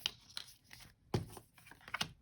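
Tarot cards being shuffled by hand give brief papery riffles and soft flicks in uneven bursts, close and fairly quiet, with a sharper card snap near the middle.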